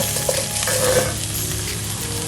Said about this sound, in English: I love to saute my garlic first to release that nice aroma in the oil